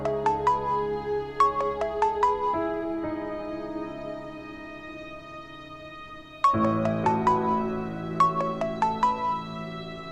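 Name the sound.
phone ringtone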